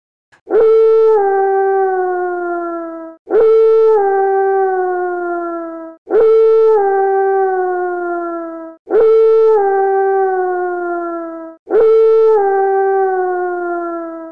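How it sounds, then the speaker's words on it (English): Five identical long wolf howls from the Bloody Roar 4 fighting game, each rising sharply then holding a steady, slowly fading tone, evenly spaced with brief gaps and loud, with no other sound. "like how the exact same wolf howl for Yugo appears 11 times."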